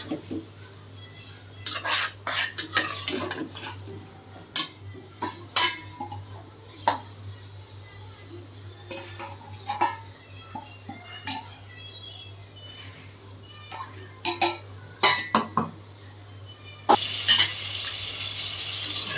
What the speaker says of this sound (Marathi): मसाला सर्व कोलंबीसोबत प्रॉपर मिक्स झाला पाहिजे.